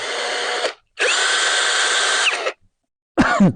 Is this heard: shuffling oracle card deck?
no